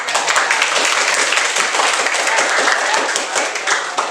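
A classroom of students claps together, a dense, lively burst of applause lasting the whole few seconds, close and fairly loud with some faint voices mixed in.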